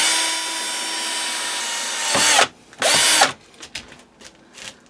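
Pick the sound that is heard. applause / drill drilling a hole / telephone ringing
drill drilling a hole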